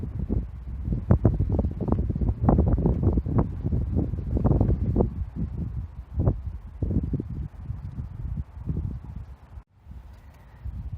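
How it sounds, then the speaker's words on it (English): Strong night wind gusting outdoors, buffeting the microphone in loud, irregular rumbling bursts that ease and return, close and alone, briefly dropping out near the end. "The wind is pretty bad tonight, so I'll try to keep this one short."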